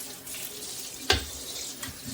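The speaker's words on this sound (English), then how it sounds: "I'm going to give this a quick rinse." Oranges and grapefruit being rinsed under a running kitchen tap while preparing them for canning: a soft, steady wash of flowing water with one brief clunk partway through, fairly quiet and close.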